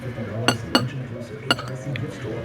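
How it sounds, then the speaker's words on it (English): Egg and warm milk are beaten together in a bowl for a breakfast batter: a few sharp, separate clinks of a utensil against the bowl over a low, quiet background. "And I beat them together, mix them together."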